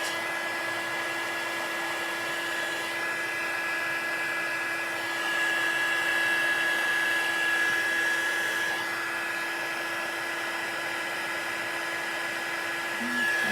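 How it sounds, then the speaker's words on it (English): Heat gun blowing over embossing powder on a sunflower card, a constant whirring fan drone with a steady high whine, close and unbroken, swelling slightly midway. "because my heat gun is so warm"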